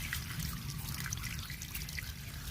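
Water trickles and drips as a taro corm is gently rinsed of soil before cutting, a close, continuous splashing without speech.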